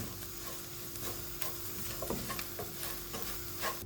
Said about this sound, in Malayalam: ഇതിൻ്റെ മസാലയുടെ പച്ചച്ചുവ പോകുന്നവരെ ഒന്ന് ചെറുതായിട്ട് നമുക്ക് വറുത്ത് എടുക്കണം